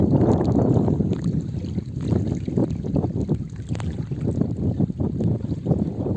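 Strong, gusty wind buffets the microphone beside a village river bridge where a cast net is being thrown for fish, producing a loud, uneven rumbling roar that surges and dips across the whole stretch with scattered knocks.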